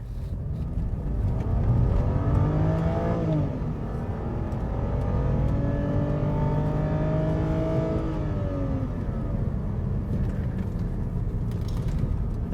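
A BMW E90 sedan on coilover suspension during a road test drive, heard from inside the cabin as the engine revs climb twice under acceleration, with steady road and wind noise underneath.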